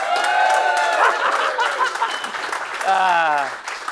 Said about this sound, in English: here's our live studio audience going to give me a great big round of applause